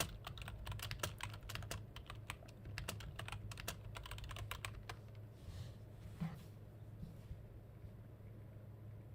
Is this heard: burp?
no